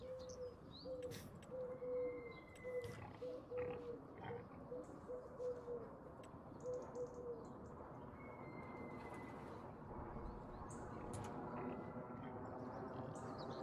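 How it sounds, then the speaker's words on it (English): Birds chirp and a dove coos in the Farming Simulator countryside, soft repeated calls over a low steady hum of machinery, with sparse high tweets scattered across the scene. "you can have some birds and bees in your lug holes now"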